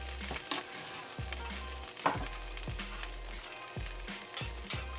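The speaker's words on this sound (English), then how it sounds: "we're gonna start sauteing our garlic" Garlic sizzles in a hot pan beside a medium-rare ribeye, a steady close crackle and fry broken by repeated scraping stirs, with no talking.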